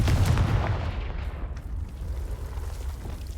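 Confringo fire-blast spell explodes in Hogwarts Legacy, starting with a loud, deep, booming burst that fades into a rumbling, crackling tail, heard alone and close.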